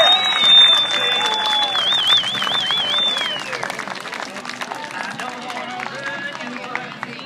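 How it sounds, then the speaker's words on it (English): A crowd at an air show applauds and cheers after a parachute team act. The clapping is steady and mixed with a loudspeaker voice and a high whistling tone at the start. "Give him a round of applause"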